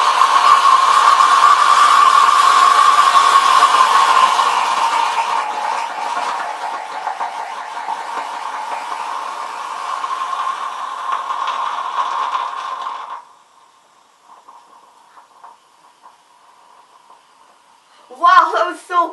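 Jelly baby dropped into molten potassium chlorate, producing a loud, steady roaring howl like a blowtorch that fades gradually and cuts out, followed by a short burst of talking.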